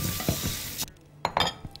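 Orzo and mushrooms sizzle steadily in a hot pan, then a utensil scrapes and clinks against the metal in a few short strokes.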